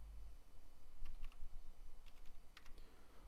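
Faint, close computer keyboard typing comes in small clusters of light key clicks over a low background hum, with no voice heard.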